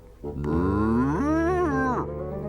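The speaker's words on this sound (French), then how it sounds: "La seule chose qu'ils possédaient était leur vache, Daisy, qui n'était plus toute jeune." An old dairy cow gives one long, loud, close moo that rises in pitch, holds with a slight waver, then drops off after about two seconds.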